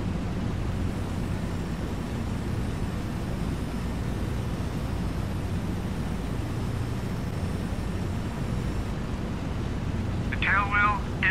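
Four-engine B-17G bomber droning in Flight Simulator X as power is eased off, a steady broad engine roar that holds throughout, with a voice speaking briefly near the end.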